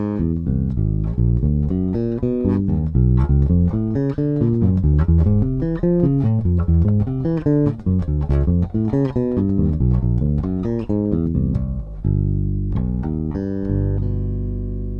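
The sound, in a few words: bass playing augmented arpeggios over half-whole diminished scale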